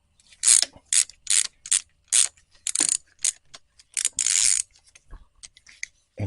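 Socket ratchet loosens a bolt on the alternator cover bracket of a 2023 Kawasaki KLR 650, a close series of crisp clicking bursts in an uneven rhythm with short pauses between strokes.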